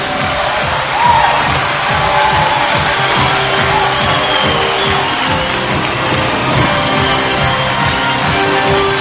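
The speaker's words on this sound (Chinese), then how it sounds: "现在我们掌声请出二号主人公王维。" A TV studio audience on a Chinese variety game show applauds and cheers as a contestant is welcomed, a loud, dense, sustained wash of clapping and crowd noise with scattered whoops.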